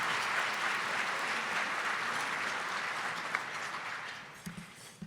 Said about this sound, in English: Please give these supporters a round of applause